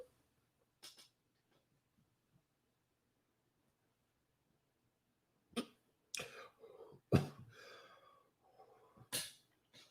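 Coughing fits and throat-clearing burst out in the second half after a mostly quiet opening with a faint early cough, several harsh close bursts in quick succession.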